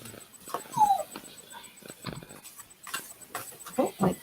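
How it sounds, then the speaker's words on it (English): A dog whimpers and yips in short, uneven bursts mixed with voices and background noise, a brief higher whine standing out early on. "The dog's gone mad."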